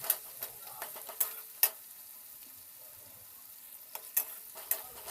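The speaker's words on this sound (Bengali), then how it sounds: "পেঁয়াজ কুচিটাও আমি সামান্য ভাজবো।" Chopped onion fries in a pan with a soft, continuous sizzle, broken by several crisp ticks and clicks of a utensil stirring, clustered at the start and again near the end.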